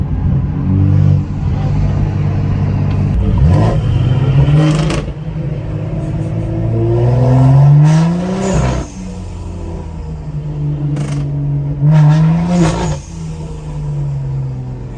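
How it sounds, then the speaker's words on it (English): BMW M240 and manual BMW 235 accelerating hard, loud engine notes rising and falling through several gear changes, with brief sharp shifts between pulls, close by and continuous throughout. "Both these cars sound insane."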